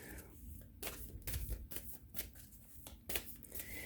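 Cards being handled and shuffled during a card reading, with a run of quick papery riffles and flicks close to the microphone, no talking.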